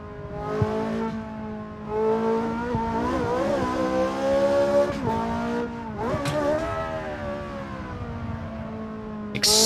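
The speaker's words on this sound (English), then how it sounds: "Excessive blipping." A race car in the Assetto Corsa racing game has its throttle blipped repeatedly, the engine note swooping up and down in short bursts over a loud, steady drone, with no voices.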